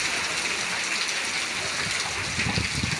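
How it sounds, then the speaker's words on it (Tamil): Heavy rain pours steadily in Tiruppur, a dense continuous hiss of water that stays loud and even throughout, with some low splashing and running water underneath and no voices. "மழை அடிச்சு விட்டுது பாருங்க."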